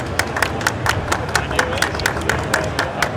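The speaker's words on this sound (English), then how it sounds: "Round of applause for David." A small group at a gaming convention claps in quick, regular rhythm, the sharp hand claps standing out close by over a low murmur of voices.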